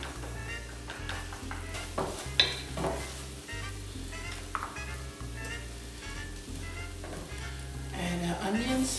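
Garlic hitting hot oil in a pan for a taco fry bread filling gives a steady sizzle and frying crackle, joined by occasional stirring and clinks of utensils against the pan.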